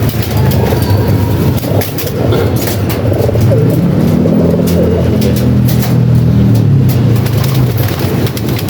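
Racing pigeon breeder stock birds coo in a loft, low throaty calls rising and falling steadily beneath constant background clatter and rustling.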